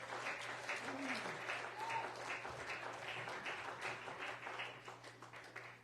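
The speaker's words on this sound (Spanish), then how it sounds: "Denle un aplauso al Señor, hermano, porque Él es bueno" A church congregation applauds for the Lord at a Spanish-language sermon, steady crowd clapping held at a moderate level for several seconds, with a faint voice and a low steady hum beneath.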